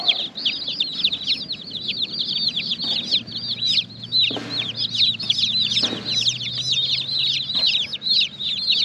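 Meat chicks kept for raising give continuous high peeping and clucking, many birds at once, close and fairly loud, with a few brief thumps and rustles underneath.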